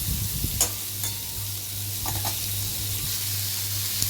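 Prawns fry in a hot pan with a ginger, garlic and tomato spice paste, a steady, hissing sizzle broken now and then by faint stirring scrapes.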